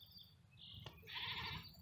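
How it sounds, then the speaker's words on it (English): A goat bleats in a backyard, one wavering cry at moderate distance over low outdoor background hum. "You can hear the goat complaining."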